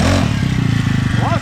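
A SYX Moto MK40 4-stroke single-speed direct-drive dirt bike engine idles steadily and quietly up close with a low, even pulsing, while someone talks over it.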